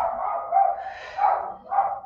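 A small dog barking indoors, three rough, drawn-out barks spaced about half a second apart, fairly close and clear with no talk over them.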